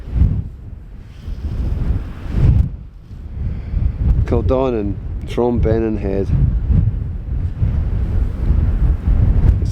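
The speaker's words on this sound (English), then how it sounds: "It's very windy up here, it really is blasting" Strong gusting wind buffets the microphone on exposed cliff tops at Bennan Head above Kildonan, a constant loud rumble with surges, while someone speaks briefly partway through.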